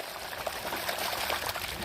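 Water gushes steadily from a farm borewell pump. The rush is continuous and fairly loud throughout, with no voices.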